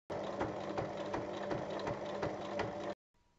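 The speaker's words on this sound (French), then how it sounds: "on va surpiquer de chaque côté de la couture" Sewing machine topstitching along both sides of a fabric seam, a steady rapid mechanical stitching rhythm close by for about three seconds before stopping abruptly, with no talking.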